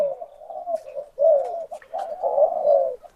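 Doves coo in a series of low, mellow, rounded calls, close and fairly loud, with short breaks between phrases.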